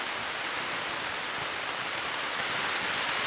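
Rain falling on a camping tent, a steady, dense, even hiss of close rainfall with no pauses and no voices.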